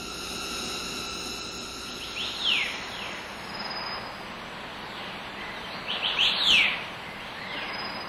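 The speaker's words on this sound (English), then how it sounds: "bird songs can be heard without end, making the forest lively and conspicuous" Bright chirping calls ring out in a few short bursts over a steady hum of insects, with birdsong lively in Lalashan National Forest in late spring or early summer.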